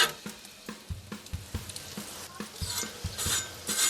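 Crispy toasted burger buns crackling and rasping as they are handled on a barbecue, a series of short, dry crunches close up with no talking.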